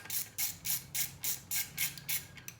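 Rhythmic ratchet clicks come in regular bursts as bolts on an alternator and power steering bracket are snugged down on a 5.3 LM7 V8. The sound is quiet and close, with roughly nine even pulses and no talk.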